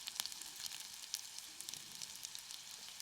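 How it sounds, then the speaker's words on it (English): Sausages sizzle in a pan over a Trangia alcohol stove at a rainy wild camp, giving a soft, steady crackling hiss with small pops, faint and close, with no talking. "Just waiting for the sausages to finally sizzle"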